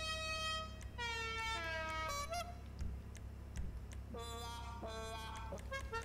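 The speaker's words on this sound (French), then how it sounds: "Klaxon." Car horns in a racing video game honk in a series of tonal, goose-like toots of varying pitch, some quick and stacked, over a steady low engine drone.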